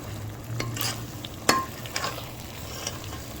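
Suji halwa being stirred in a pan with eggs mixed in, a gentle scraping and soft sizzle with a few sharper spoon clicks against the metal, close and steady, no voices.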